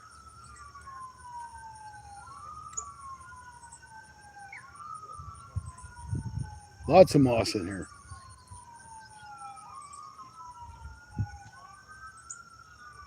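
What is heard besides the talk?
distant ambulance siren on highway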